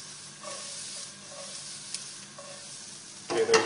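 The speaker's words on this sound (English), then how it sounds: "Okay, those vegetables are nicely sautéed now." Broccoli and other vegetables sauté in a pan with a quiet, continuous hiss and faint stirring, and the sizzle flares louder for a moment at the end.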